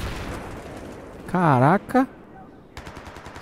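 Gunfire from the Battlefield 3 video game crackles in short rapid bursts at the start and end, with a voice speaking loudly in the middle.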